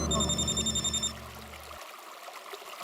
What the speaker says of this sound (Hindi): ओए टप्पू, तू फोन मत उठा ना, फोन मत उठा।